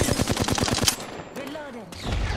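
Rapid automatic gunfire in the Apex Legends video game, a fast burst of evenly spaced shots that stops after about a second, followed by game voice callouts and then another loud low blast.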